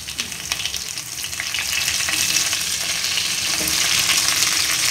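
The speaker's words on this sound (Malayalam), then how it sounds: "ഇനി നമുക്കിതിലേക്ക് സബോള വലുതാക്കി അരിഞ്ഞത്" Sliced onions added to hot oil with ginger, garlic, green chili and celery for chilli chicken, frying with a loud, steady, close sizzle that builds slightly, with occasional stirring clatter and no speech.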